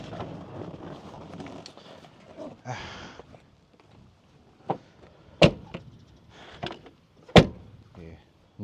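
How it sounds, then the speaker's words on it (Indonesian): A door is slammed shut several times, giving sharp, loud, close bangs in the latter half, after indistinct talking and rustling at the start. "Nutupnya harus dibanting."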